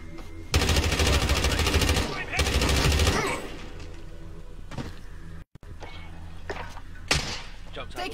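Loud automatic gunfire from the Warzone shooter game rattles out in long rapid bursts, followed by scattered single shots and thuds, with a voice speaking over part of it.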